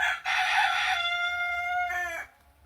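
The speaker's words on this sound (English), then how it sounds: "as the cock crows" A rooster crows once, loud and close: a long, strained cock-a-doodle-doo that holds steady, then rises into a short final note before cutting off, with no talking around it.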